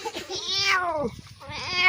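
A cat meows twice up close, a long rising-and-falling call followed by a shorter one, with faint background noise between.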